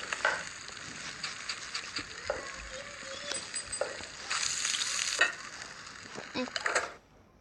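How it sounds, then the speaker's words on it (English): Steak sizzling on a grill in the cooking game Toca Kitchen 2, a steady bright frying hiss running for several seconds, swelling louder midway, with small clicks and taps before it cuts off. "The steak looks awesome when it's grilled."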